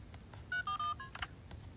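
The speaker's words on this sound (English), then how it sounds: "I got a phone call." Electronic tones from an incoming phone call in the video game My Town, a few short beeps and two sustained tones in a row, clear over a quiet background with no talking.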